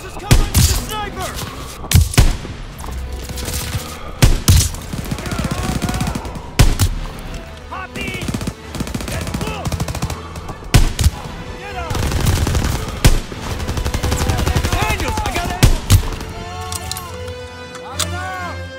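Gunfire in a Call of Duty WWII battle: repeated bursts of rifle and machine-gun fire, loud and close, mixed with explosions and shouted orders from soldiers throughout.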